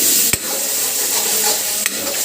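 Masala for matar paneer fries and is stirred in a pan with water added: a steady, loud sizzle fills the clip, broken by two sharp scrapes of the spoon against the pan.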